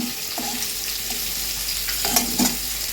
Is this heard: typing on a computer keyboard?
no